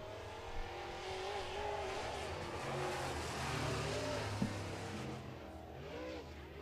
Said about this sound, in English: Some great racing in heat number 1 of your Molson Genuine Draft Modifieds, your MGD Modifieds, as Ward Emery